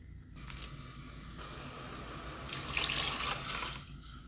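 Tap water runs steadily into a cooking pot with sheep tongue, salt and a bay leaf for a souse, a continuous close splashing rush that swells louder near the end.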